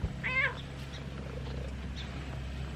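A cat close to the microphone in a garden lets out a brief wavering meow, followed by faint rustling over a steady low background hum.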